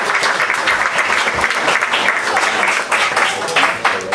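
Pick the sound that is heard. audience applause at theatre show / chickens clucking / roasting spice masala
audience applause at theatre show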